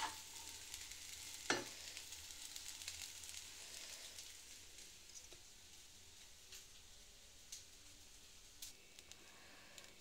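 Vegetable fried rice is stirred and tossed in a hot pan, a soft continuous sizzle with scraping stirs and one sharp clank near the start, no one speaking.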